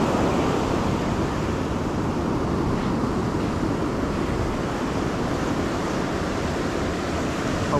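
Ocean waves break on the beach during surf fishing for pompano, a continuous loud wash of surf that fills the whole stretch with no pauses or voices.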